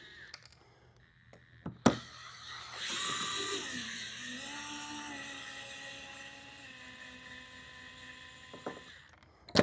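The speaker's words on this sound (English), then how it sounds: "just take the little screws off" A small electric screwdriver whines as it backs long little screws out of a downstream bypass injector kit, a steady motor hum with shifting pitch between sharp clicks at start and finish.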